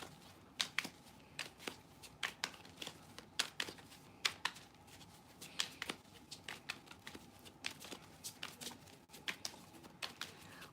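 A new tarot deck is shuffled by hand, close and quiet: repeated short riffling bursts and card slaps in an irregular rhythm, with almost no talking.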